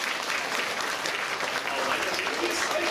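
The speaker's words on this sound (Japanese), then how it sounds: "拍手だ" Audience applause inside the Turtle Talk theater at Tokyo DisneySea, a steady dense patter of many hands clapping at moderate level for the full three seconds, with faint crowd murmur beneath.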